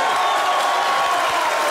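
Short burst of audience applause and crowd noise at a Colombian comedy show, a dense, even wash of clapping with faint cheering mixed in.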